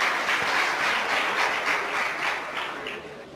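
A crowd at a regional progress-report gathering claps loudly in a dense, sustained burst, with faint rhythmic pulses, easing slightly as it tails off, no voices over it.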